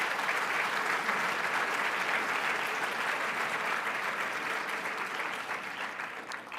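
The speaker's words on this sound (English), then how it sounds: "Can we give them all a round of applause?" A large audience at a mayors' winter meeting opening plenary claps steadily for the event sponsors, a dense, sustained wash of applause that holds strong throughout and thins slightly near the end.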